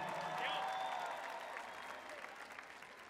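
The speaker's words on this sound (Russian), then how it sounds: "Давайте аплодисменты ему." A concert audience gives a dense round of applause for a performer, loud at first and gradually thinning, with crowd voices and a faint tone running underneath.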